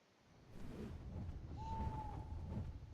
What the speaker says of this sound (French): Des espèces de hiboux là qui ululent lugubrement